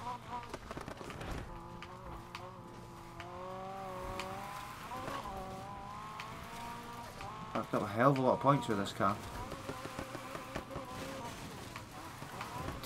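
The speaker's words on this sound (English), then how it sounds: "Terrible drifting there." Mazda RX-7 drifting in Need for Speed Heat, engine droning and shifting pitch with a burst of tire squeal midway, heard under someone talking throughout.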